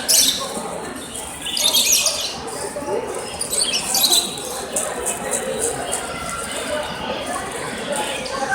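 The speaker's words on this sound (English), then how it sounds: "at a local bird show and I see something strange. A pink budgie." Budgies at a local bird show, among them a pink one, chirp and squawk in a busy, continuous chatter of many birds, with people talking in the room throughout.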